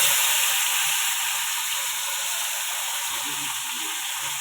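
Tomato dropped into hot oil for a tangra fish mustard-poppy curry crackles in a loud, dense, continuous sizzle close by that eases only slightly over a few seconds.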